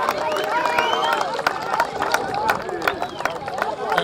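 Audience at a youth under-15 soccer tournament final claps in a dense burst of hand claps, loud and close, with crowd murmur and a voice over the top.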